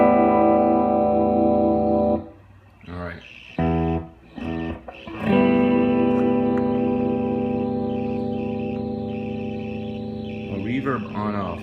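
An electric guitar played through a vintage Silvertone 1484 tube amplifier with surfy spring reverb rings out in sustained chords, with a few choppy strums before a long, loud, washy chord fades slowly.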